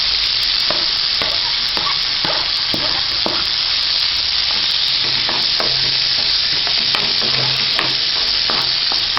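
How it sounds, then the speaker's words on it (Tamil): Eggplant and tomato sauté in hot oil with a constant close sizzle, broken by scraping stirs of a spoon through the pan, loud and steady with no talking. "இதை இந்த எண்ணெயிலே கொஞ்சம் வதக்கிக்கோங்க"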